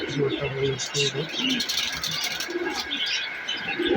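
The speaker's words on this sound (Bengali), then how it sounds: "এই যে আমাদের কবুতর" Pigeons coo and murmur in a pigeon shop, soft repeated low calls with occasional chirps, heard under nearby speech and general shop bustle.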